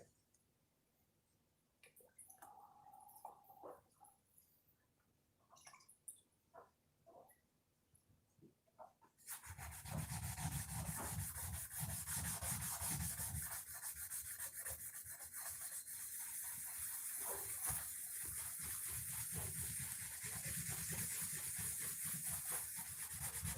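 An axe is sanded with 400 grit sandpaper. Scattered handling noises come first, then a loud, continuous close-up rasping scrub of paper on steel fills the rest.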